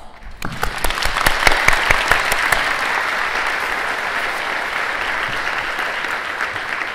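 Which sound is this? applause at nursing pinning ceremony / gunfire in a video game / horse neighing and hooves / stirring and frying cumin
applause at nursing pinning ceremony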